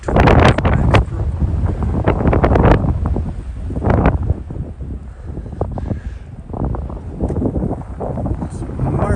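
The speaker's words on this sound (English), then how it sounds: "Hopefully this will be heard because of the extreme wind and freezing cold temperatures" Strong wind buffets a phone microphone outdoors on a freezing March night, a loud continuous rumbling roar with gusty surges, and a voice talks faintly under it.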